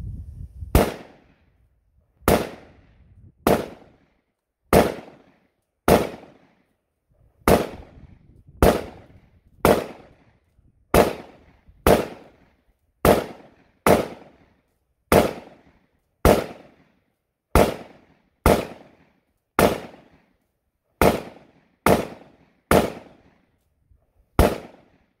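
Rifle shots fired at a dead tree outdoors, about twenty sharp loud cracks spaced roughly one second apart with brief decays, steady and unaccompanied by talk.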